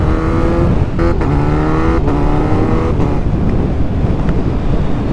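A 2021 Kawasaki Z900 motorcycle runs loud and close, its exhaust holding a rough, steady drone with a few brief dips in pitch, no voices heard.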